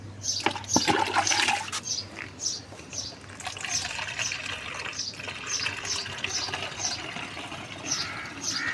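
Two litres of water being poured into a container for mixing a garden spray, a wet splashing flow under bright outdoor bird chirps that repeat throughout.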